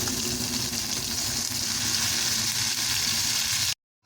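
A paste of ground green peas sizzles loudly and steadily as it hits hot oil in a pan, then the sound cuts off abruptly at the end.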